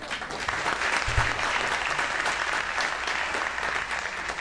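A church congregation applauds continuously, a thick, steady roar of many hands with a brief low thump early on, sustained evenly throughout.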